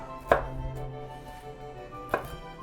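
Apples are coarsely chopped for an apple cake: two sharp, quiet knife chops land on a board about two seconds apart against a near-silent background.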